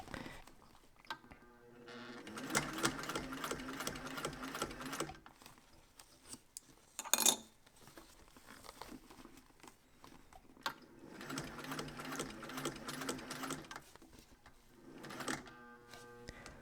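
Sewing machine stitching a bulky leather beret with stretched elastic, running in two slow steady bursts of rapid needle chatter separated by a pause with a brief clatter, close up and without talk.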